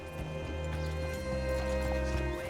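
A horse's hooves thud in Red Dead Redemption 2 while the rider hitches up, a few soft, irregular steps almost buried beneath a loud, sustained droning hum.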